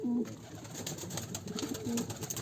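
Pet pigeons coo softly with low, rolling calls over a steady background hum, a few calls overlapping.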